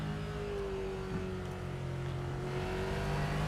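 Race car engine in a GT series sim racing game at VIR, a steady sustained drone holding a constant pitch for the whole stretch, loud and continuous with no talk over it.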